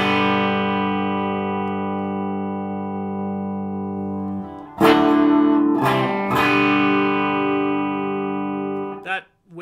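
Sustained electric guitar notes through a Donner White Tape delay pedal with feedback at about 7, smeared by heavy repeating echoes that pile up into a dense, swelling wash, with a few sharp strummed attacks.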